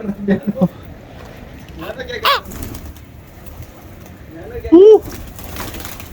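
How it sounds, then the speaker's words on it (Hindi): Pigeon cooing and a brief flutter of wings amid people talking, with a louder coo near the end. "हमारे बच्चे ने कबूतर को उड़ा दिया और कबूतर बैठ गया था"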